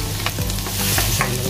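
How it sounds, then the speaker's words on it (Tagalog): Finely chopped garlic dropped into hot canola oil, a loud dense sizzle with scraping stirs of a utensil in the pan, close up and continuous. "Mainit na po yung mantika. Maglagay na po tayo ng bawang."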